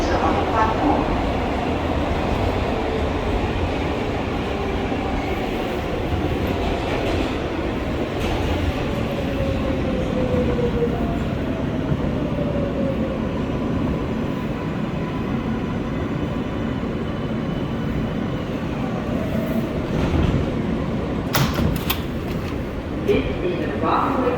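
An R143 L subway train rolls toward Rockaway Parkway in New York, a steady close rumble of wheels and car noise with rising whines and brief rattling near the end, under a speaking voice.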